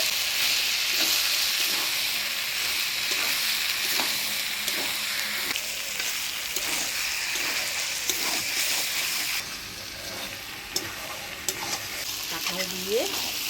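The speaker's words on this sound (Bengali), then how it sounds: "কাঁঠাল দিয়ে খাসির চর্বি দিয়ে ভালোভাবে কষিয়ে নিলাম" Goat fat and jackfruit with fried potatoes sizzle steadily in a pan, a dense continuous frying hiss broken by frequent scraping stirs, close and loud, with no talk.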